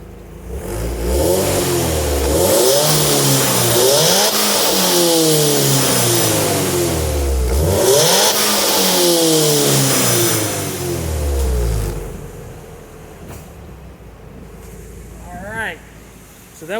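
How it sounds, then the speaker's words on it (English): Nissan S13 SR hatchback exhaust revved hard several times up toward 7,000 RPM, loud rising and falling engine sweeps close by, easing to idle near the end. "Exhaust clip for you."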